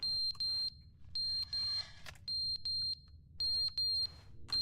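Repeated electronic beeping of a fire alarm in The Stanley Parable: Ultra Deluxe, sounding in quick bursts of three or four high beeps over a steady low hum, loud and close with no talk.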